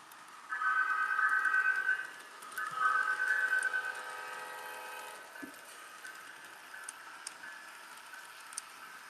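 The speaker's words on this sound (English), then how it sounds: "I got two trains running, the freight train and then the Amtrak." HO scale model trains, a freight train and an Amtrak, run with a high tonal whine that swells twice and then fades to a faint hum with sparse light ticks.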